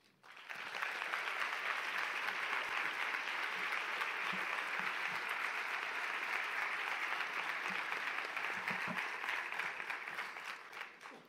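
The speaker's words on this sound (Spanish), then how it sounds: "un fuerte aplauso para Víctor García Rayo" Dense, sustained applause from a concert audience at a Holy Week passion music event, a thick wall of clapping that swells in quickly, holds evenly for about ten seconds, then starts to taper.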